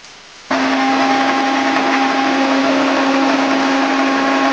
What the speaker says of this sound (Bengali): এখন এর মধ্যে আমি কিছু গোটা কাঁচা লঙ্কা দিচ্ছি, দিয়ে আবার পেস্ট করে নেব